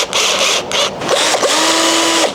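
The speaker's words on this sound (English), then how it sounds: "we're gonna start with the drill bit that came with this drill" A cheap power drill fitted with its stock bit whirs loudly in short bursts, stopping and starting, then holding a longer steady spin up close.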